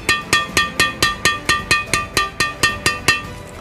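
A badminton racket strung with Li-Ning strings at 28 lbs is tapped about a dozen times in an even rhythm, each a crisp ringing ping, close and alone.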